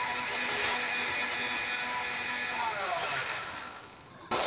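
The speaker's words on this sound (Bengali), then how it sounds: "আমি একটু ভালোভাবে ব্লেন্ড করে নিব।" An electric blender whirs steadily while blending cold coffee, a constant buzzing motor that thins slightly near the end before a brief louder burst.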